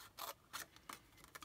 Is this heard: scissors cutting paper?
yes